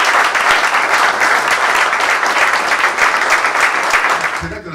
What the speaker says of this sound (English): Would you all please, first of all, give a great round of applause for the Sam Ash Store here and Mike Abbott, who's the manager here.